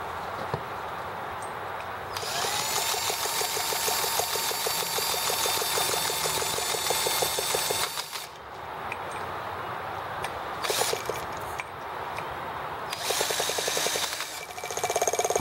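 A T26 engine cranks steadily with a fast mechanical whirr during a restart attempt, with brief pauses and rhythmic changes throughout. Close and loud, with no speech over it.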